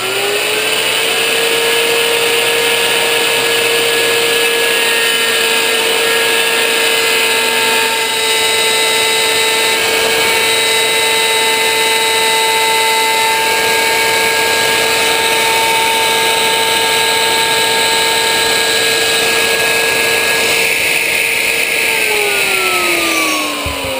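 Router-type power tool with a bit cutting parts for a teardrop trailer, a loud continuous high whine holding steady pitch for over twenty seconds before winding down at the end, with no talking.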